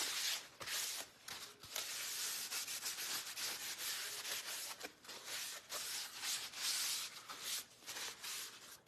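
Wooden craft spindle pieces for a patriotic Americana sign are wiped with a paper towel. Soft, close, uneven rubbing strokes repeat with brief pauses between passes. The sound is quiet and no one speaks.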